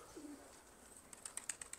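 A pigeon gives a soft low coo in a pigeon coop, faint and close, followed by a run of quick high chirps and small clicks.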